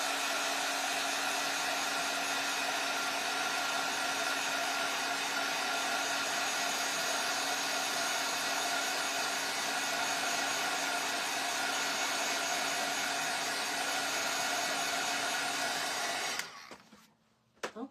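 A hair dryer runs steadily at close range, drying paint on a laser-cut wooden sign; a constant loud whirring drone that cuts off abruptly near the end with a brief clatter.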